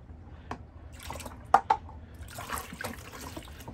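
Water is poured out and runs down a bathroom sink, a close, soft trickle and splash with a couple of sharper knocks partway through and no one speaking.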